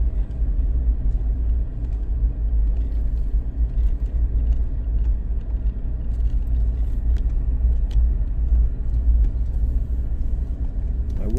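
A car pulls away from a parking area and heads downhill through a small town in southeast Kentucky, its engine a steady low rumble with road noise close up and continuous throughout.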